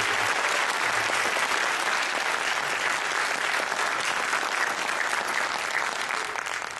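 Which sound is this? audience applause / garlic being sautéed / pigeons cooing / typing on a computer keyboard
audience applause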